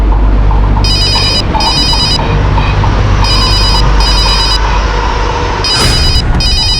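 A telephone bell rings loudly in repeated bursts, two rings, a pause, then two more and another near the end, over a constant low rumble, in a tense police scene.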